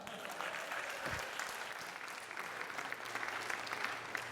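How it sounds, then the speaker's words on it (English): Audience applause at an evening talk on a college campus, a sustained, even patter of many hands clapping, quiet and distant-sounding, with a low thump near the start. "Give yourselves a round of applause for coming out."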